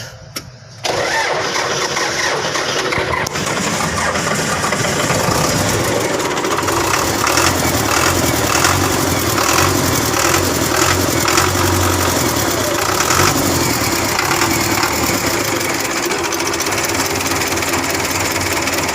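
A Belarus 510 tractor's diesel engine, after sitting unused for many days, cranks over and catches, then settles into a steady, loud rumbling idle that runs on with no one speaking.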